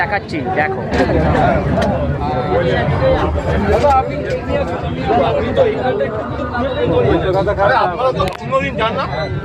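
Dense crowd chatter fills a crowded local train coach between Naihati and Sealdah, many overlapping voices murmuring continuously with occasional clatters.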